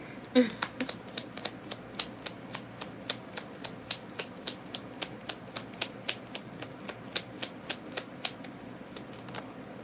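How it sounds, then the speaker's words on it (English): Tarot cards flick and drop one after another in a steady, rapid run of crisp clicks and slaps, close and fairly quiet, over a low room hum. "The cards are falling all over the place, dude."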